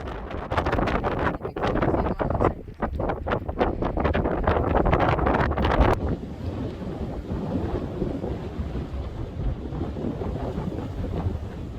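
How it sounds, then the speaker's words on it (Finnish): Strong wind buffets the microphone in loud, rumbling gusts at the Sõrve lighthouse tower on Saaremaa, Estonia, harsher at first and then settling into a steady roaring blow. "Aika tuulista täällä on"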